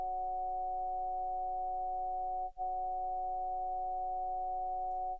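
A synthesized vowel tone holds steady as a pure, buzz-free drone with stacked harmonics, briefly dipping at the midpoint before continuing, shifting in color toward an 'aw' vowel; no voices.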